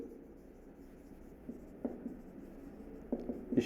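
A pen writes notes for a 12th-grade chemistry lesson, giving soft scratching strokes with a few faint taps and clicks near the end, close and quiet, with no talk.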